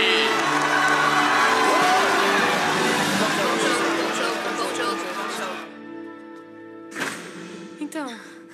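Crowd at a high school girls' team sporting event, quarterfinal celebration, cheering and whooping in a loud dense wash that fades after several seconds, followed by a brief burst of noise.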